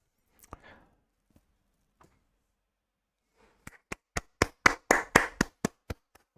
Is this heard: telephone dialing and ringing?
no